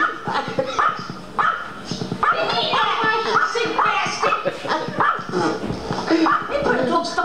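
Jack Russell puppy giving repeated sharp yips and barks mixed with whimpers, close and loud, while people talk and laugh over it throughout.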